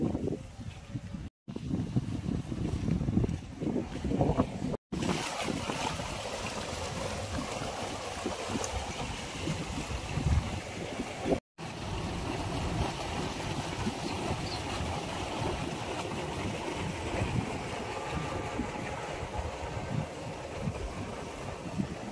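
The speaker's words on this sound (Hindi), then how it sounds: "हवा चल रही है" Steady outdoor wind in a rural village on a cloudy day, roaring and gusting as broadband buffeting against the microphone, continuous throughout with a few brief dropouts and no talking.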